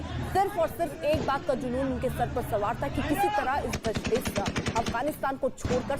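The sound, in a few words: gunfire by US soldiers at Kabul airport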